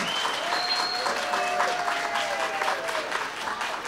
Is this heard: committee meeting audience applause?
yes